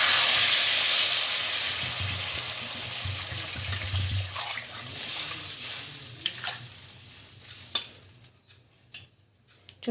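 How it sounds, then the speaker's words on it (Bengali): Water is poured into a pan of cooking fish curry with potatoes and broccoli, a close rushing splash at first that fades into softer bubbling and a few clinks and knocks toward the end. "জলটা দিয়ে দেবো"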